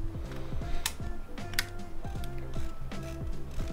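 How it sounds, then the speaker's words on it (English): The film winder of a KFC-branded 35mm film camera is advanced, giving rapid rhythmic ratcheting clicks in repeated bursts, close and fairly quiet, with a couple of sharper snaps between strokes. "And then start advancing the film winder."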